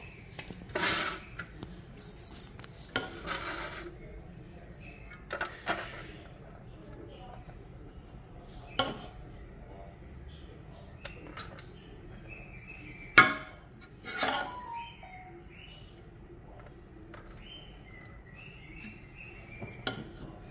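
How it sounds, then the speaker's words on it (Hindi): Rice being scooped out into a tray for tandoori chicken loaded rice, with scattered clinks and scrapes of a utensil against metal, sparse and close, under occasional quiet sounds. "अभी इसमें ट्रे में हम पहले चावल निकालेंगे"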